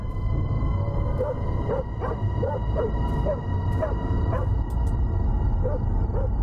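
A dog barks in the horror video game Fears To Fathom, a series of evenly spaced short barks about every half second, moderately distant over a steady low hum.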